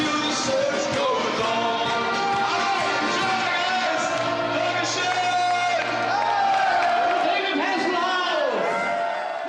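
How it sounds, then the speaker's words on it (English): A packed pub crowd roars for David Hasselhoff, a dense continuous wall of cheering, whoops and shouting voices, loud and sustained without a break. "they're cheering him to the rafters"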